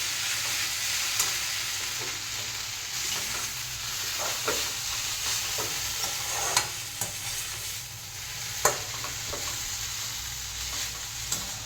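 Chowmein with salt and pepper frying in a pan while being stirred, a steady close sizzle broken by scattered scraping and clinking stir strokes, with no voices.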